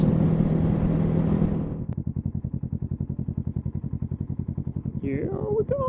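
A motorcycle fitted with a Yoshimura exhaust opens with a loud, dense engine roar, then settles into a steady, rapid thumping pulse. A rising whine comes in near the end.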